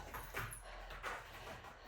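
A puppy whimpers softly in a few short, high, breathy whines, fairly close but quiet.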